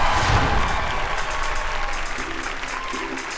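Studio audience at a live televised song contest fills the room with thick, continuous applause, loud and close, with a faint tonal sound underneath and no clear speech over it.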